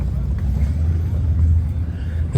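A race car at Cayuga Speedway, heard as a steady low engine rumble that stays loud and continuous throughout, with no voices over it.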